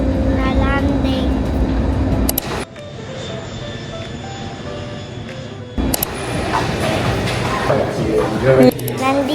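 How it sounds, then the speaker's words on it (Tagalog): Inside an airliner landing in Taiwan, a loud cabin engine roar mixes with mechanical rattles and clunks. People talk over it, and the sound cuts out abruptly twice before the roar returns. "We just landed."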